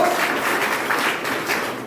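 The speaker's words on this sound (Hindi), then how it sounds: "इबाइटोरियम कंपनी के लिए डायरेक्ट दिल से जोरदार ताली होनी चाहिए" Enthusiastic applause from an audience for the E-biotorium company at a business talk in Prayagraj, a steady dense wash of clapping with no voices over it.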